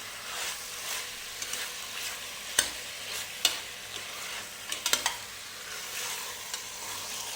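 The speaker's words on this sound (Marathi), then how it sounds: "हे मटण थोडं भाजून घ्यायचं आहे आपल्याला." Mutton pieces sizzle softly as they are roasted in a pan for Kolhapuri pickle, a continuous low frying hiss broken by several sharp spatula knocks and scrapes, with no talk.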